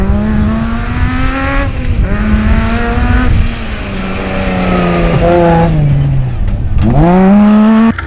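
Toyota Hilux race truck in the Kameel 500 rally, its engine roaring loud and close with rising and falling revs through gear changes across the whole stretch.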